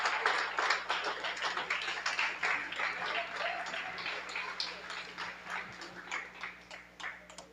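A church congregation claps in rapid, uneven rhythm during worship, a dense continuous patter heard at moderate distance with voices mixed in.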